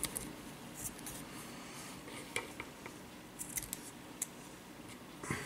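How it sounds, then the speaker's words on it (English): Scissors snip the ends of cotton wicking for a vape tank in faint, scattered crisp cuts over a soft background hiss, with no talk. "Now we have to cut the ends off a little, because otherwise we will have too much cotton."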